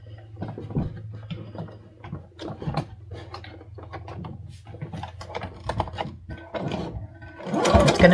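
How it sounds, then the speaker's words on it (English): A sewing machine stitches slowly around a thick, layered microwaveable plate cozy in stop-start bursts of rapid clatter, getting louder near the end. "Now I'm going to sew all the way around."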